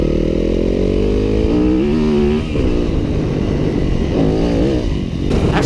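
A 2015 Yamaha WR250F four-stroke dirt bike engine revs loudly and close by, its pitch climbing smoothly and linearly, then dipping and rising again in continuous bursts with no other sounds.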